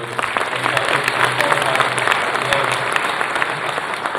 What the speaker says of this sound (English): can we now have a huge round of applause for all the panelists